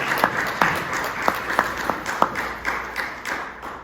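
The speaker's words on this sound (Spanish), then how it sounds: "un aplauso para Julio Alejandro." An audience applauds at the end of a talk on blockchain, biotech and artificial intelligence, giving a steady patter of many hands with sharper individual claps standing out, fairly close and continuous.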